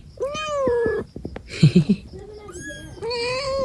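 A cat meows several times nearby, drawn-out, plaintive calls separated by short pauses, with a few faint low sounds between them.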